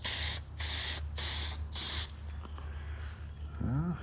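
A spray can lays a first coat onto an old rangefinder with four quick, loud hissing bursts in a steady rhythm, followed by quieter handling sounds.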